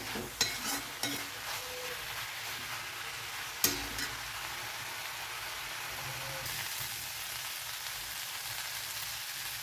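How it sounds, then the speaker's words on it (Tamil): Broad beans (avarakkai) fry in a pan with a steady soft sizzle like light rain, broken early on by a few clinks and scrapes of a utensil, then frying on alone. "இன்னொரு அஞ்சு நிமிஷம் நல்லா ஃப்ரை ஆகட்டுங்க"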